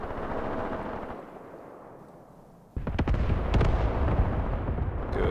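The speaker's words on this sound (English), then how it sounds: "now these machine guns here are opening up." In the tactical war game Graviteam Tactics, machine guns open up in a sudden burst of rapid, loud fire after a low, fading rumble of distant battle, then keep rattling amid heavy continuous noise.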